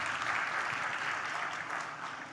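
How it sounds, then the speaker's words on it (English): An audience at a neuroscience symposium claps steadily for a couple of seconds, a dense, even patter of many hands that tapers slightly toward the end. "Please give him a great round of applause."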